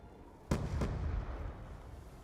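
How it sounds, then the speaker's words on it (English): Video game grenades exploding, two sharp, loud blasts in quick succession followed by a rumbling tail that slowly fades. "Those are grenades."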